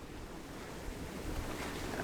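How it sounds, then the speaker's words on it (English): Waves break over the bow of a sailboat heading close-reach in gusty wind off the coast between Kittery and Gloucester, a steady, fairly faint wash of surf and rushing wind with no voices. "we're getting waves over the bow"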